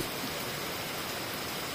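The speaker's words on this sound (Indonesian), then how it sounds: "ngam pula sampai rumah dah hujan" Rain falling: a steady, dense hiss of rain on surfaces, even and continuous throughout with no voices.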